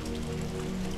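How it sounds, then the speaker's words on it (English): Steady rain ambience from the video game Ghost Hunter, a dense, even patter of drops falling on surfaces, continuous and fairly loud with no talk over it. "Maybe I'm also just enjoying the ambiance of the rain."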